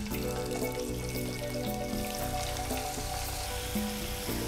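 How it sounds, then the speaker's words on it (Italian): Floured shrimp frying in hot oil for fish and chips, a loud, constant close-up sizzle and bubbling that holds steady throughout with no talk. "andiamo a completare la nostra ricetta immergendo anche i gamberi nell'olio"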